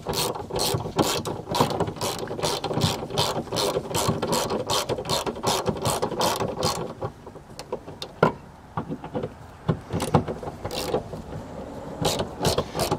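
A ratchet tightens bolts on a Honda Jazz tailgate, giving a loud, fast run of close clicks that pauses briefly and then resumes in shorter bursts.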